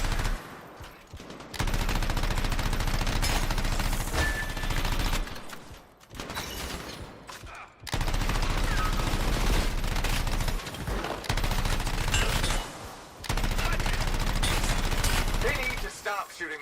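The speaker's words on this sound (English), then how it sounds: "They need to stop shooting me out of the air." Sustained automatic gunfire in the video game Anthem, shots aimed at the player, rattling in long loud bursts that break off briefly around the two-, six- and thirteen-second marks before resuming.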